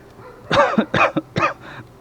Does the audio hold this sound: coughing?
yes